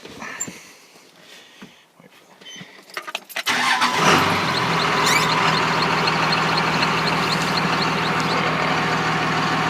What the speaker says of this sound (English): I guess what we can do is an attempt to start it.